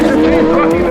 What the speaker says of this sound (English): This is Craig's turbocharged Hayabusa.